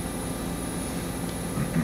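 Helicopter in the game DayZ, a continuous low engine and rotor drone that stays steady and fairly loud across a short moment.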